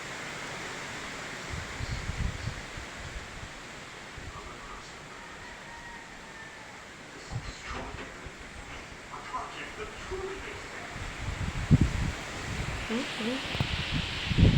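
Typhoon Uwan's strong wind blows steadily with rustling gusts, tearing at a roof during a Signal No. 4 storm in the Philippines, with bursts of louder buffeting and occasional clatter near the end.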